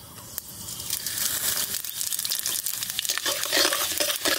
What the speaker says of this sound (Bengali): পাঁচফোড়নটা বেশি ভাজবো না, হালকা ভেজে নিলাম।